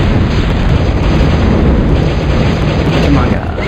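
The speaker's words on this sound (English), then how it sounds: "You'll notice that most of the rockets were hitting this hill." Rocket explosions in a strategy video game, a dense, loud, continuous barrage of booming impacts and rumble, with speech also present in the mix.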